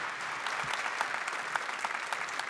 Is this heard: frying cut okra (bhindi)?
no